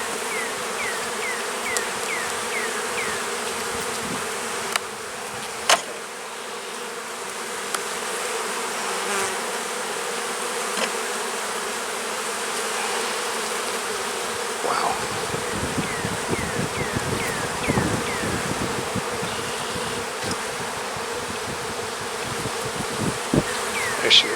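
Honeybees buzz continuously around an open hive during a frame-by-frame inspection, a dense close drone with a few sharper nearby passes and light handling noises later on.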